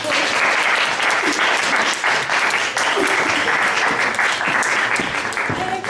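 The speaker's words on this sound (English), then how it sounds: "Can we give her a massive round of applause for coming with her?" Loud, sustained audience applause at a student committee executive election hustings, dense clapping filling the whole stretch without a break.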